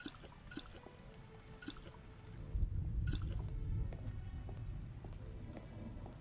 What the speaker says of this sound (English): That rain sound is so good.